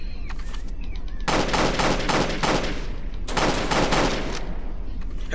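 Video game gunfire during a prison escape, two long bursts of rapid automatic shots, loud and close, separated by a short pause, with lighter single shots at the start.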